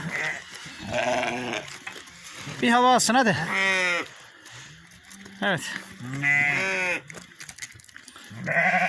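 Sheep and lambs on a farm bleat loudly and repeatedly as lambs are brought to meet their mothers, with a person speaking in between the calls.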